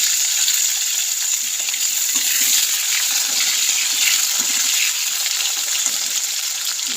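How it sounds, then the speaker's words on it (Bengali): Potatoes frying in hot oil for a fish-head and cabbage dish, a steady dense hiss of sizzling that carries on evenly throughout with no talk. "আলুগুলো ছেড়ে দিচ্ছি। আলুগুলো ভেজে তারপরে এর মধ্যে মশলা দেবো।"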